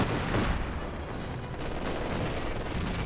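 Pak 40 anti-tank gun in Company of Heroes 2 firing amid a dense, noisy battle soundscape, with repeated blasts and rumbling impacts in the first half over continuous background din.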